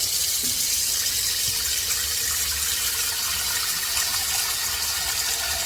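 Water pours steadily from a pot filler faucet mounted over the stove into a very large pot, filling it to cover smoked turkey meat for Southern turnip greens; a constant, close, full gushing stream with no talk.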